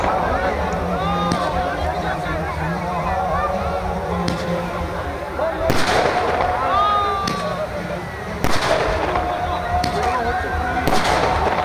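Eco-friendly green fireworks go off at a mela closing ceremony, with sharp bursts and whistling streaks repeating every few seconds over a crowd's murmur and voices talking.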